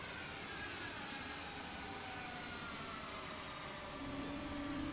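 Airbus A220 jet engine in Microsoft Flight Simulator, a steady faint whining howl with a broad rushing roar and a rising tone near the end.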